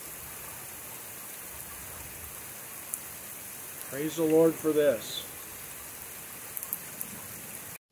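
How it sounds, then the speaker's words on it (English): Heavy early-morning rain falls steadily outside in Texas Hill Country ranch land, a constant hiss of downpour throughout, with someone briefly speaking over it partway through. "it was raining really well"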